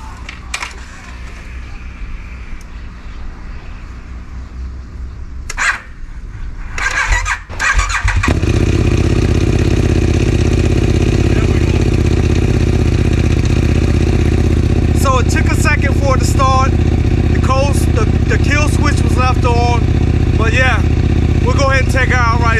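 A KTM motorcycle cold-starts with a brief crank and catch, then settles into a loud, steady idle that runs on close by, while voices speak over it.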